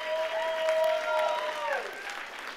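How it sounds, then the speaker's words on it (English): Applause from the audience at a 50th anniversary gala, a steady wash of clapping with a sustained musical tone sliding down partway through. "let's give a round of applause to everybody that's here"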